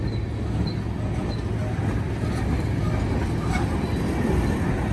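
A passing freight train of tank cars loaded with high fructose corn syrup at a Colton rail yard, giving a steady, close, continuous rumble of rolling wagons with faint wheel clatter throughout.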